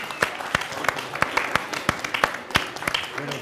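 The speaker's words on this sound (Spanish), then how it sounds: "Un aplauso, ven a recibir tu libro." An audience applauds at a book event, producing a sparse scatter of sharp, separate handclaps rather than a dense roar, fairly close and lasting a few seconds.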